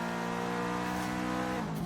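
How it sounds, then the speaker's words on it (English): Turbocharged Subaru WRX STI with an intake and turbo upgrade in Forza Horizon 3, its engine droning steadily and close with a rich harmonic tone that climbs slightly and shifts near the end, no voices over it. "Just with the intake and that turbo upgrade, this thing is sounding really nice"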